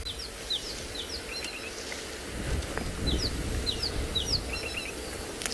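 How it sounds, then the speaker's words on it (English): A rattling cisticola calling from the top of a knobthorn tree at sunset in the Kalahari, a series of short, bright chirps in quick clusters, moderately distant over low wind and rumbling background noise. "That noise you could hear is that of a rattling cisticula."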